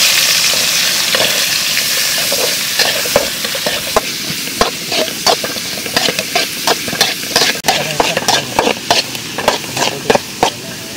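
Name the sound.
onions frying in oil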